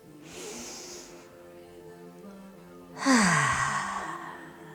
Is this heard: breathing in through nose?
yes